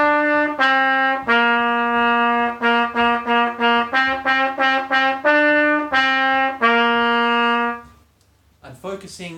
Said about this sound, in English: Here's how it sounds on trumpet.